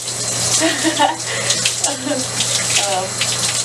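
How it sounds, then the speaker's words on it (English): Tap water runs steadily during a hair rinse on wash day in a bathroom, a continuous close hiss and splash with a low hum underneath, steady for the whole stretch with faint shifting splashes. "So wash your hair, rinse your hair out."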